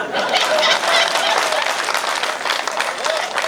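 Crowd at a Hindi comic poetry gathering bursts into loud, sustained clapping and cheering, a dense wash of hands that stays strong throughout with scattered voices mixed in.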